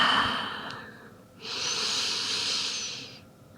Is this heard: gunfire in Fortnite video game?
no